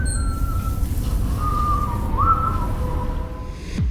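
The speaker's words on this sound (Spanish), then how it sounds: "La oímos en la intro del logo y William la silba en un par de ocasiones." A lone whistled melody from the game Five Nights at Freddy's 2, clear and close, drifting through a slow, wavering tune over a low steady background rumble.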